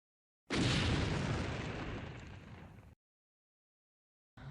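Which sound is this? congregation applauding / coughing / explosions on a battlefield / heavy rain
explosions on a battlefield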